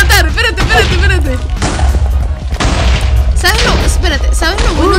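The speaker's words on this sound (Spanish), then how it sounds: "¡No! Hay un esqueleto que va a explotar." Explosion bursts from exploding skeleton mobs in a randomized Minecraft game, loud repeated booms and bangs over game noise, with a voice talking excitedly throughout.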